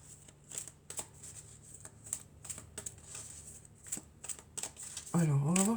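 Tarot cards being shuffled and handled in short papery riffles and slaps, with a voice briefly speaking near the end over the card sounds.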